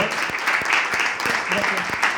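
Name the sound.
audience applause for a reporter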